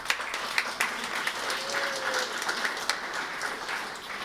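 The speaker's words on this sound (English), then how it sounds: "Karen got applause, that's nice." An audience applauds Karen at a distinguished alumni award ceremony, with steady, fairly faint clapping spread through the room and continuing throughout, no voices over it.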